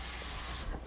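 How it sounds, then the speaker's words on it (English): Cooking spray hisses in one steady burst over the tops of fish fillets cooking in a Redi Set Go countertop cooker. The spray runs for most of a second, then cuts off with a fainter tail. "So we'll go ahead and spray the top"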